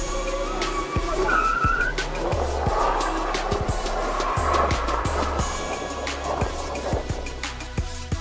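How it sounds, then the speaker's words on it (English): A Nissan GTR launches hard from a standstill on a road trip, its engine revving loudly as the tires squeal and skid, with repeated sharp bursts over a steady loud roar for several seconds. "Él aprovecha de sacar picture aquí para ver que GTR tira su launch."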